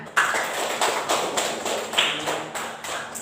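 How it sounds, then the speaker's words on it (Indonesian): Classroom applause for students who read a text aloud, a steady patter of many hands clapping together, moderately loud and sustained throughout with no talk over it. "Ayo kita sama-sama kasih aplaus kepada temannya"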